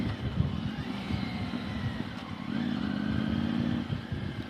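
A Quadro CV3 550 twin-cylinder three-wheel scooter rides through town, its engine giving a steady, moderately loud rumbling drone with slight changes in pitch and no talking.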